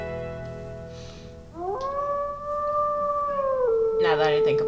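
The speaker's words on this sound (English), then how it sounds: "I should be howling more too." A wolf howl in the video game WolfQuest, one long sustained rising-and-falling tone near and loud, followed by a burst of other game noise at the end.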